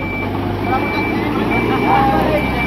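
A vehicle starts up and turns while its reversing alarm beeps steadily and repeatedly over a loud, continuous engine rumble, with voices talking nearby.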